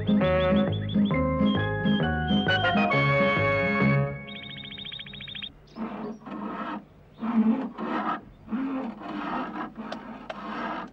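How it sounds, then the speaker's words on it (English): Rhythmic rasping strokes of a saw cutting wood, repeated bursts with brief pauses, following a stretch of bright music with a ringing electronic tone. "sawing up his wood for the winter"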